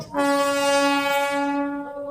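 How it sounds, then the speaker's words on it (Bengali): Darjeeling toy train at Batasia Loop sounding its horn, one loud sustained blast lasting about two seconds, close by and clear. "তো এই বাতাসিয়া লুপের ভেতর থেকেই টয় ট্রেন যায়"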